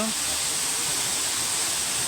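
A waterfall at the Harishankar temple pours with a dense, steady broadband hiss that stays constant and close from start to finish.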